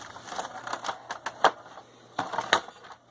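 Old, aged adhesive tape peels and comes apart from the casing of a TV-radio unit, giving a series of crisp crackling ticks and snaps in irregular bursts, close by with no talking.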